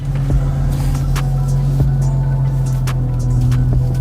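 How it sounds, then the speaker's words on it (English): A BMW 340i Touring petrol engine idling on a cold start, a steady low rumble with a strong constant hum, close and continuous, with a few faint clicks over the drone. "as soon as you start it, they do go into cold start"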